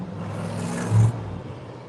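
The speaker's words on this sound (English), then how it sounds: "Oh, that's a cool car." A car drives past nearby, a steady engine rumble that rises to a brief louder swell at the midpoint before easing off again.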